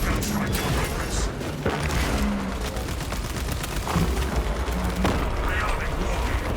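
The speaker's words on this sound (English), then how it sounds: "Servo gun strike in progress." Servo gun strike in the video game Space Marine 2, rendered as a dense, continuous barrage of rapid gunfire and mechanical clatter with heavier booms, mixed with a speaking voice.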